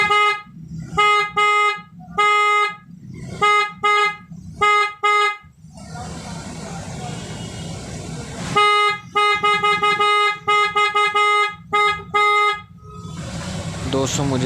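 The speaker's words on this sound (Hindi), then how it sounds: "मुझे यहाँ हॉर्न की आवाज़ ज़्यादा लग रही है" A car horn is sounded repeatedly while being adjusted, sharp loud honks in short bursts and longer blasts with gaps between, some louder than others, and someone talking between them.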